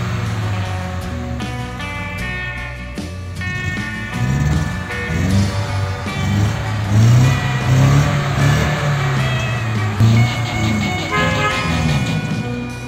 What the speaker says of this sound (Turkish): Şimdi içeri girecek arabamız.